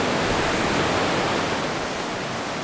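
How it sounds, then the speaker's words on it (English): Kootenai Falls in Montana sends water rushing over solid rock, a dense, loud, constant roar that fills the whole stretch with no voices. "The water's rushing so much"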